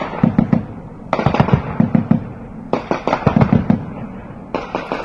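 Heavy gunfire and shelling in the Panjshir fighting between the Taliban and resistance forces comes as loud clusters of sharp cracks and booming bursts, separated by brief pauses.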